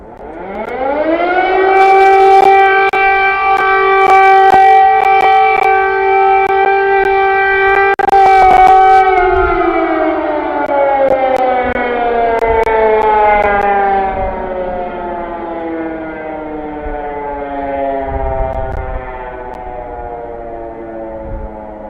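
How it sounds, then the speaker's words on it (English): A loud air raid siren in Ukraine holds a steady wail, then slowly winds down in pitch, with faint clicks and rumbles in the background. "Air raid sirens are going off again right now as we speak."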